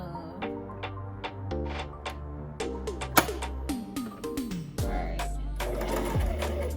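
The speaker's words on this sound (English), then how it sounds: "I'm sewing this right along the edge" Sewing machine stitching small fabric pieces along the edge: close, rapid mechanical whirring and clicking in short bursts of varying speed with brief pauses between runs.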